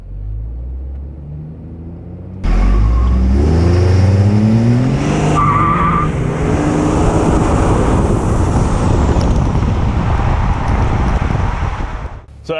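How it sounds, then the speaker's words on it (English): A truck fitted with BD traction bars idles, then launches hard from a standstill: the engine roars loud and close, revving upward with tire squeal and a sustained, heavy acceleration rumble. "With the bars installed, we're going to do a launch to show you what it'd be like on a race truck"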